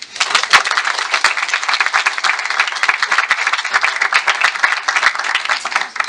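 Audience at a film festival world premiere of French short films clapping steadily in a sustained, dense round of applause, loud and close throughout with no talking.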